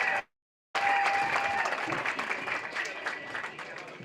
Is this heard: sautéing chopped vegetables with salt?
no